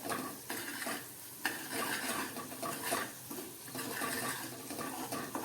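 Gram flour roasting in oil over a low flame gives a soft, steady sizzle with faint scraping stirs, fairly quiet and even throughout, without talk.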